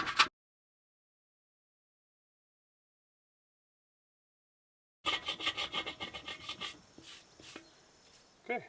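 A putty knife scraper rasps against a Weber kettle grill during restoration, a burst of close scraping strokes in quick rhythm after a long silence, fading to lighter scratches.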